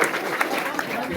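An audience applauds in welcome at a ceremony installing Sri Mallikarjuna Deshika at a Kannada religious gathering, a brief dense patter of many hands close by with murmuring voices mixed in.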